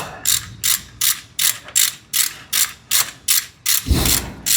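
A wrench ratchets against the transmission plug of a Nissan Navara D40, giving about eleven loud, evenly spaced clicks at close range, then a heavier scraping thud as the plug cracks loose at the end.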